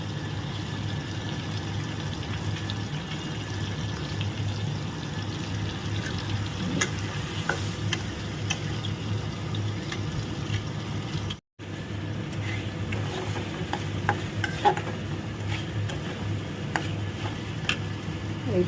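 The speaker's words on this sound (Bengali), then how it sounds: "এবার এর মধ্যে দিয়ে দেবো পেঁয়াজ, আদা, রসুন, টমেটো, কাঁচা লঙ্কা দিয়ে ওকে ভালো করে ভাজতে হবে" Onion, ginger, garlic, tomato and green chili fry with fish in a pan, a low steady sizzle under a constant background hum, with scattered light ticks and stirring clicks and no talking.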